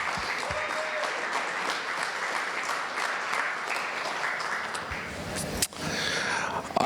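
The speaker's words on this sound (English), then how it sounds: "So just join me in a round of applause and thanking our sponsors for their support." Audience applause for event sponsors at Chamber on Tap, an evening chamber music show, a steady roomful of clapping lasting several seconds that briefly dips near the end and then resumes.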